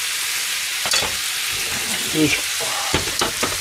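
Pasta arrabbiata ingredients fry on high heat with a loud, continuous sizzle and occasional stirring clatter; a voice briefly speaks over it.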